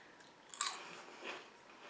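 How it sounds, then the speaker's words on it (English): Lightly salted onion potato chips being bitten and crunched, a single crisp crunch near the middle followed by a softer chewing crackle, close and fairly quiet. "You have a delightful light crunch."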